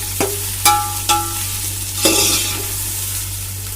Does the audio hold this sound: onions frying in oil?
yes